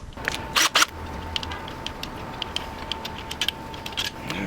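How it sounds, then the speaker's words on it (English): Main cap bolts being loosened and unthreaded from the bottom end of a Caliber SRT4 engine, with a few sharp ratchet bursts early, then scattered light metallic ticks and clicks over a steady hum. "Go ahead and loosen and taking them all out."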